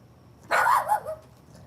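A single short bark from a dog, fairly close and moderately loud, breaking a quiet background.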